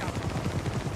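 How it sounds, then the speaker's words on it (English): Rapid, evenly spaced gunfire from a sniper rifle in the video game Army of Two: The Devil's Cartel, a steady run of punchy low shots packed closely across the moment with no pauses. "Take the sniper rifle and give them some cover."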